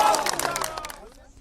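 A crowd at a Jharkhand police event claps in a brief burst of applause that fades out within about a second, fairly close.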